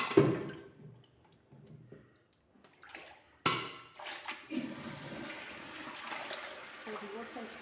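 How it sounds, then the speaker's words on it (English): Water is poured into a toilet bowl to clean it, a faint splashing and gurgling flow that comes in uneven bursts before settling into a steady rushing wash, with a voice speaking quietly at times. "So the water is coming out to wash it more properly."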